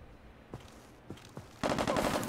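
Video game gunfire traded down a hospital hallway: a few separate single shots spaced out, then a dense rapid burst of automatic fire, moderately loud with no voices.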